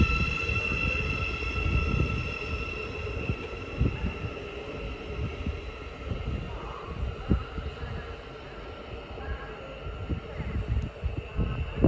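A Thameslink train departing Hitchin on the Horsham to Peterborough service pulls away with a quiet, low rumble and a faint, steady hum, with soft rhythmic thumps of wheels over rail joints.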